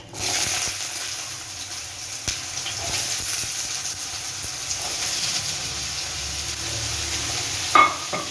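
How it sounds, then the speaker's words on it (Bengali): Potatoes fry in oil with whole cumin, whole garam masala and bay leaves, producing a steady, moderately loud sizzle throughout, with a few faint stirring knocks and a short clatter near the end. "আলুটা ভাজা হোক"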